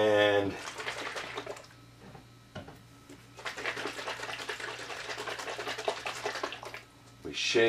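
Liquid dye for dyeing plastic parts is poured into a heat-resistant container in two steady streams with a brief pause between them, over a constant low hum.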